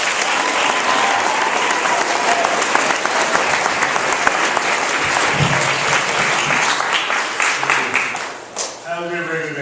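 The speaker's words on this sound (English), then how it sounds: "Please give him a round of applause." A school audience bursts into loud, sustained applause welcoming a speaker, thick and even for most of the stretch before thinning out as a voice begins speaking at the end.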